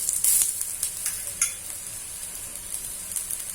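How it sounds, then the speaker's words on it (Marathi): Matar paratha fries in a little oil on a hot tawa, a soft steady sizzle with a few light scraping stirs near the start. "असंच थोडं थोडं तेल टाकते"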